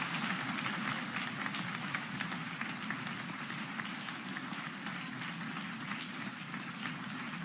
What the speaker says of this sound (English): Everyone, please give them a square of applause